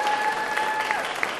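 Comedy debate audience voting by applause, a brief, fairly faint spell of crowd clapping with a steady tone running beneath it.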